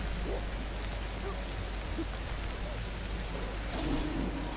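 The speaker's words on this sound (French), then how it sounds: "Alors là, le temps, il pleut." Soft, steady rain falls continuously, a diffuse gentle patter with no voices.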